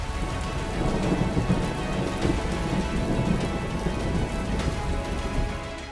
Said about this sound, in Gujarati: વહેલી સવારથી અનેક વિસ્તારોમાં વરસાદની શરૂઆત થઈ